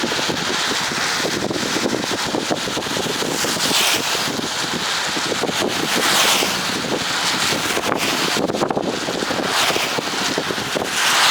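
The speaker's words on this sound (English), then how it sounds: "Pardon the wind." Wind roars through a rolled-down car window while driving near Slide Rock State Park in Sedona, Arizona, a loud, continuous buffeting rush that fills the whole stretch and swells and fades slightly.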